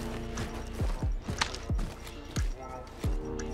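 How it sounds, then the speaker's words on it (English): Footsteps in a first-person shooter Search and Destroy match thump as regular low, muffled steps, about seven across a few seconds, moderately loud over faint game ambience. "Definitely just heard some footsteps."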